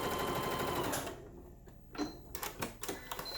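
Sewing machine stitching through the layers of a patchwork pot holder during quilting, a steady close mechanical whir that runs for about a second, then stops and restarts in short bursts with small clicks.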